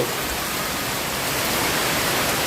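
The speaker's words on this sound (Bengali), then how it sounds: "আরম্ভ হলো ঝড় আর বৃষ্টি একসঙ্গে" Heavy rain pours down in a midnight storm in rural West Bengal, a dense, even, loud roar of rainfall with no pauses and no talking.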